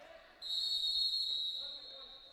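Referee's whistle at an ice hockey game, Eagles against the Blackfish: one sustained shrill blast of about a second and a half, rising out of arena noise and under a commentator's talk.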